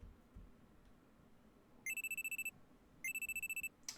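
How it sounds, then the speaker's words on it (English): A phone alarm in the Steins;Gate visual novel game rings in two short bursts of rapid, high electronic beeps, each lasting under a second, over a faint quiet background, with a brief extra chirp at the very end. "I'm sleeping on the couch when a loud alarm rings in my ears."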